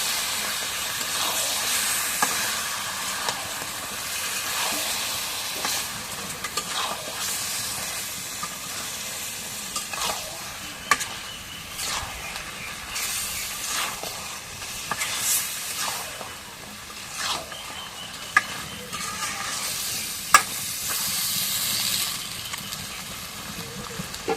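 Duck meat frying and being stirred in a pan over a rustic village fire, giving a continuous hissing sizzle with occasional sharp clicks and scrapes, no talking.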